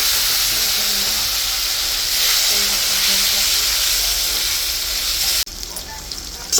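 Potatoes fry in a hot pan in a Bengali home kitchen, giving a steady loud sizzle with hiss. The sizzle cuts off abruptly near the end, then a quieter, more broken sizzle follows.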